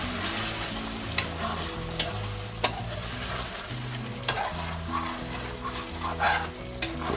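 Onions fry over low heat in a karahi for chicken karahi, giving a continuous close sizzle broken by regular clinks and scrapes as the spoon stirs. A low tonal hum runs underneath, and no one speaks.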